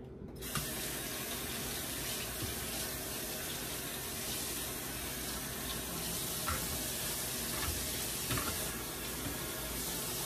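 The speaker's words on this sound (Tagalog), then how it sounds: "Rinse natin yung scallion natin, guys." Scallions rinsed under a running kitchen faucet while cooking chicken tinola, a steady close splashing stream of tap water that runs continuously throughout with no talking.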